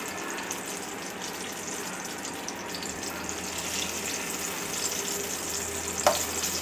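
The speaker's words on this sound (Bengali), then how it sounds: "বেগুনটা উঠাই ফেলি, লাউটা বসাই দেবো।" Bottle gourd frying in a pan gives a steady, soft sizzle with a faint crackle throughout and one small clink of a utensil near the end. No one speaks.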